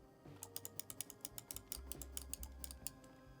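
Rapid, fairly regular clicks from a Logitech MX Master 3 for Business mouse, close and crisp, a steady run of light taps with a low hum underneath.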